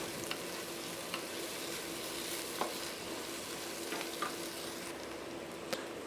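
Sliced onions sizzle steadily in hot oil in a pan while being sautéed for mushroom biryani, a continuous close crackle with occasional small pops and light stirring.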